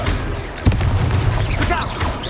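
A Confringo fire spell blasts with a sharp boom in Hogwarts Legacy, one short loud burst amid continuous battle noise and voices.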